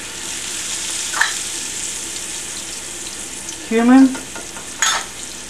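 Spices sizzling in hot oil in a pan for baingan bharta, a steady soft frying hiss running throughout, with a brief stir or clink near the start and a voice speaking over it toward the end.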